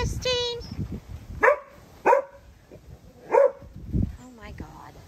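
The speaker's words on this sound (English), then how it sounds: "You are not allowed out on the ground until you stop barking at the bunny." A dog barks sharply at a pet rabbit outdoors, giving three or four loud, spaced barks and a short whine, while someone talks between them.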